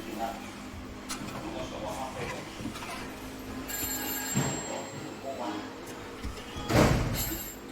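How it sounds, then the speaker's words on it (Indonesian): A telephone rings in a tense film scene, its mysterious call sounding as a repeating bell tone beneath a voice-over, with background clatter and a louder thump near the end. "Tapi tiba-tiba, ia mendapatkan telepon misterius dari seseorang."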